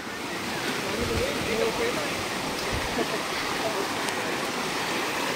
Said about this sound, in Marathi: पाण्याचा खळखळाट बघताय तर हे सरळ गडावरून येत आहे पाणी, धबधब्याचं.